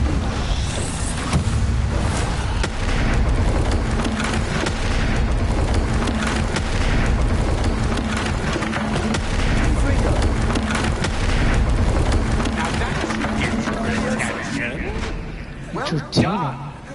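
The Bombarda spell explodes in the video game Hogwarts Legacy with a loud, sustained rumbling boom. Dense game audio fills the clip and fades out near the end.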